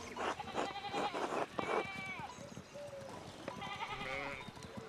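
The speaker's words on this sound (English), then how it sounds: "we need to get these sheep under control" Sheep in the medieval video game Pentiment bleat over and over in wavering, overlapping cries. A busy bed of farmyard background sound runs underneath the bleats.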